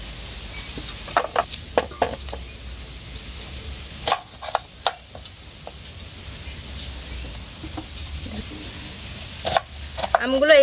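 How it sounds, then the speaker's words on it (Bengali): A knife cuts peeled raw mangoes into quarters for pickle. Sharp, irregular clicks and thuds against a board come in small clusters over a quiet hiss, and no one talks. "আমগুলো এইভাবে 4 টুকরো করে নেব।"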